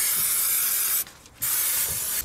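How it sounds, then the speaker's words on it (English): Brake cleaner sprays onto a car's CV boot and driveshaft in a loud, close hiss that stops briefly and then resumes. "Clean the CV boot and the driveshaft ABS ring with brake cleaner."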